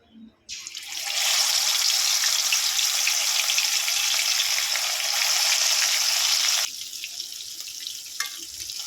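Pieces of rohu fish fry in hot mustard oil in a wok, a loud, steady broadband sizzle that bursts in after a brief quiet start and drops to a softer crackle near the end.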